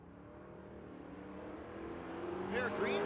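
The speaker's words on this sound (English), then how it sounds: "GTO trying to pull in front of that S10 and turn on that win light." A 2006 GTO with a ProCharged LS engine launches against an S10 down the Tulsa Raceway Park drag strip, the engine roar building steadily louder under continuous commentator talk.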